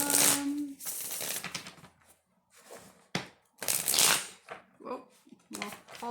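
Tarot deck shuffled three times in bursts of papery riffling and slapping, loud and close, separated by short pauses filled with faint movement sounds.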